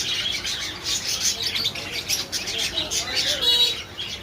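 Many small caged birds, including cockatiels, chirp and tweet rapidly together in a busy, continuous chorus at a market bird shop, fairly close, with a faint voice underneath.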